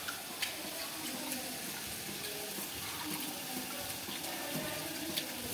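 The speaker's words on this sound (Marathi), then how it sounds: "लाल डाळ घेतले मसूरची थोडी आता ते धुवून घेणार आहे मी स्वच्छ 3 पाण्याने" Tap water running steadily while red masoor lentils and rice are washed in clean water, a continuous close splashing hiss at the sink with small spatters throughout.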